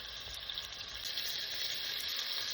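Beef sizzles and sears hard in a single pot for a one-pot stew, a steady close hiss of frying that runs without a break and stays fairly quiet throughout.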